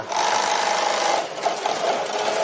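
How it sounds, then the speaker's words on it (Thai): Industrial sewing machine stitching small leather car seat pieces together, a steady close whirring drone that runs almost unbroken with a brief slowdown midway. "เราก็จะมา เย็บประกอบเป็นตัว"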